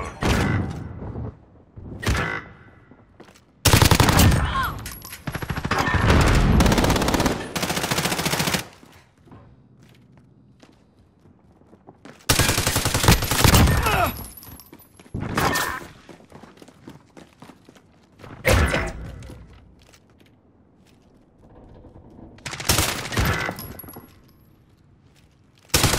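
PP-19 Bizon submachine gun fired in a video game, loud rapid automatic bursts in several separate strings, with quieter mechanical clicks and handling noises in the gaps.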